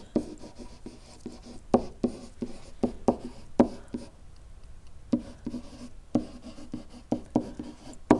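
A line equation is written out by hand in a point-slope form lesson: close, scratchy pen or marker strokes in short irregular bursts and taps, with no speech.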